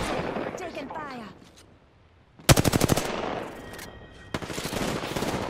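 Rapid automatic gunfire in the video game Apex Legends, two loud bursts of fast, evenly spaced shots close by, preceded by a player talking and a brief quiet gap.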